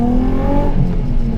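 A drift car fitted with a GK Tech angle kit, hydraulic handbrake and welded differential accelerates hard on track, its engine note droning steadily and loud throughout, with no talk over it.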